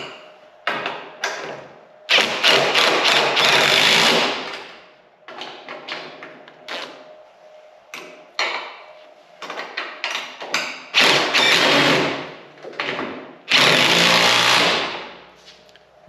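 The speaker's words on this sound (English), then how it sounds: "I just use an open end box end wrench on the top and an impact on the bottom with a deep well socket on it" An impact wrench with a deep well socket drives E-track bolts on a trailer in repeated loud, close bursts of rattling hammering, separated by short pauses and quieter clanks.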